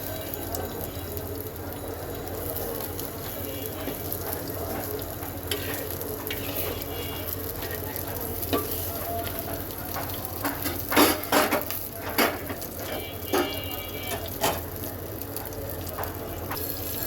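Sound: shrimp frying in oil

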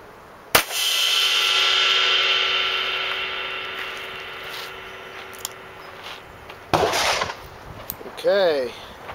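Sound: 357 Magnum Hornady Critical Defense gunshot at Zildjian K Dark ride cymbal

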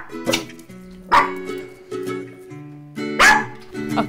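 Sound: small dog barking

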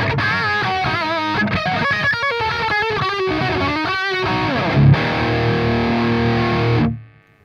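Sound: AMT StoneHead SH 50 guitar amp high-gain Lead-2 channel distortion

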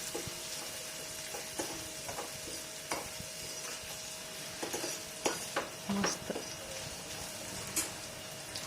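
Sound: stirring and frying onion and raw mango in pan

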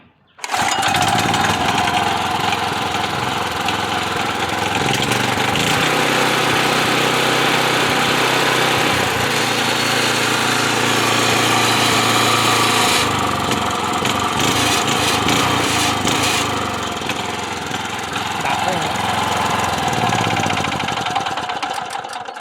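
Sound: rototiller engine pull-started and running

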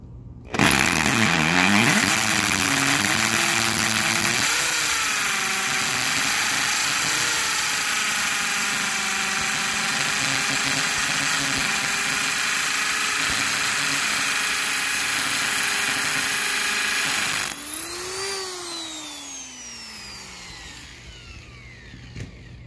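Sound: power drill boring a hole into cement

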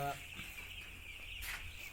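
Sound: broiler chicks on a poultry farm

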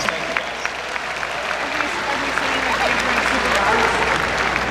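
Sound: audience applause for dog show puppies

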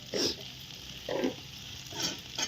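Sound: vegetable curry sizzling in tempering

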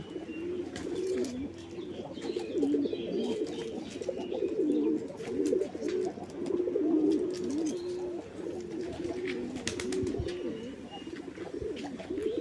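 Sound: pigeons cooing

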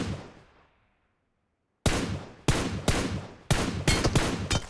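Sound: gunshots hitting a player in PUBG Mobile video game

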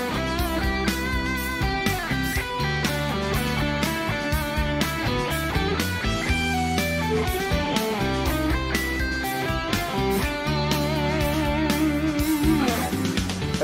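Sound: guitar playing triad arpeggios over a backing track

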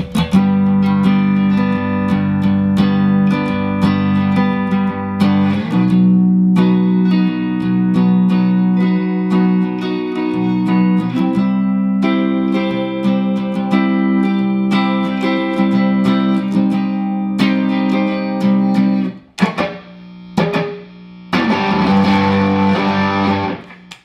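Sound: electric guitar through distortion pedal

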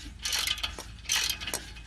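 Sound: ratchet chasing threads on exhaust flange

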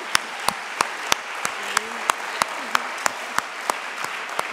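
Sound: audience applauding an honoree at an awards event

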